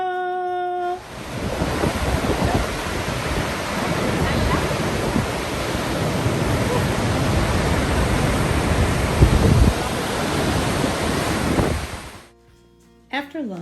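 Kiosfossen waterfall in Norway roars as a loud, steady broadband rush of falling water for about eleven seconds, then drops away abruptly near the end.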